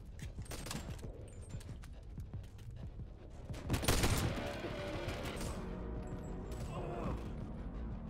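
Gunfire in the virtual reality shooter Boneworks comes as sharp bursts and rapid volleys of shots, with one louder cluster near the middle, against a low, faint background.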